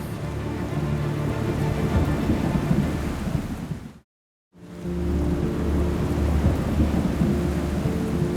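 Heavy rain pours steadily while thunder rumbles low underneath. The sound cuts out briefly midway, then the storm continues.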